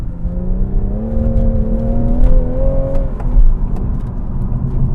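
A manual BMW M240 engine revs up with a rising tone, accelerating steadily under a low rumble of road noise, then levels off into a continuous drone.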